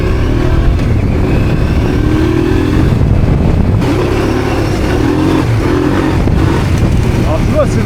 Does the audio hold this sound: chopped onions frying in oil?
no